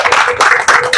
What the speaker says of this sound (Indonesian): mari kita tepuk tangan dulu di acara keren ini.